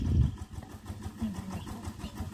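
A VST Shakti 13 horsepower tractor engine runs nearby during millet threshing on a farm, a steady low throbbing rumble that holds through the short stretch, with a louder thump at the start.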